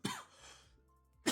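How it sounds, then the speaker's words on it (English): Two bursts of coughing and throat clearing from one person, a strong hacking burst at the start and another at the end, with quieter rough breathing between them, close to the microphone. "Sorry about the coughs, guys."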